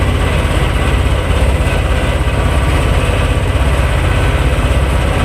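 A T-25 tractor engine runs steadily as the tractor drives along a dirt road to a hay field, a continuous low chugging drone at constant loudness with no voices.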